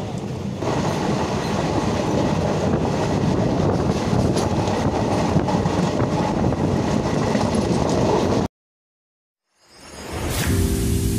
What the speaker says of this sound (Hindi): आइए चलते हैं ट्रेन से